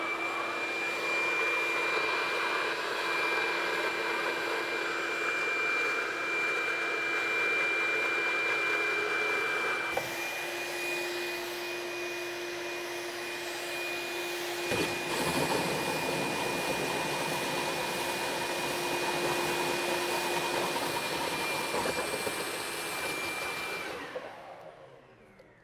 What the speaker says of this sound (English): We're going to fire up the vacuum and you'll see the difference.